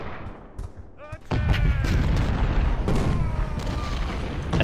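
Gunfire in the Civil War strategy game Ultimate General: Civil War comes as dense rolling volleys with booming low rumble. A voice is heard briefly just before the firing swells, and the shooting then continues loud and unbroken.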